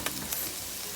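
White mushrooms hit a hot pan with onions, giving a steady close sizzle with a couple of brief crackling bursts as they land, no voices.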